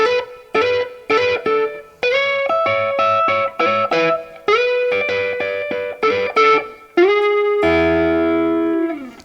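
An electric guitar with distortion plays a choppy run of repeated phrases, ending on a long sustained chord that rings out.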